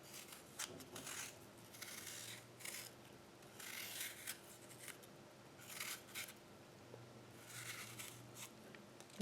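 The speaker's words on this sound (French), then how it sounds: "Voici comment je coupe les pommes." Knife cutting apples for an apple tart, a series of quiet crisp slicing and scraping strokes in short bursts, close up and alone.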